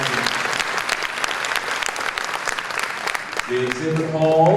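A conference audience gives a panel on gender equity in jails a round of applause, a full, continuous burst of clapping near the listener, with a voice coming in over it at the end.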